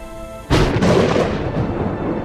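A thunder sound effect in a narrated Korean folk tale opens with a sudden loud crack, then rolls on in a broad rumble that slowly fades. No voice is heard over it.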